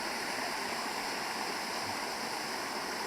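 A waterfall on the Sukha Moskovka river on the left bank in Zaporizhzhia gives a steady, dense rushing roar of falling water that holds constant throughout, with no voices.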